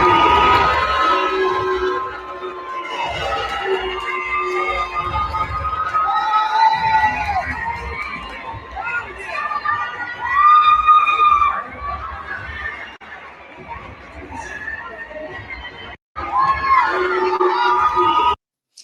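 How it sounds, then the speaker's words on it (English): A WNBA basketball arena crowd booing the Indiana Fever, a sustained mass of jeers and shouting that swells and dips over many seconds, with cheers mixed in. "this one is when they got booed going out"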